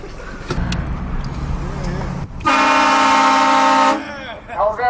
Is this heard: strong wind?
no